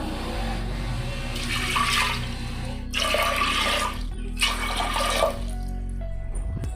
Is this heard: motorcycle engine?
no